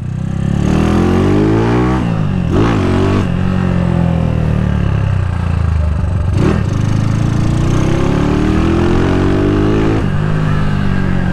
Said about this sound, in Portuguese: Se acelera, a moto já responde